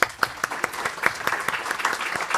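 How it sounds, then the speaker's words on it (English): A crowd claps steadily for a few seconds, a dense, even patter of many hands with sharper individual claps standing out. "I wanted to give them a round of applause"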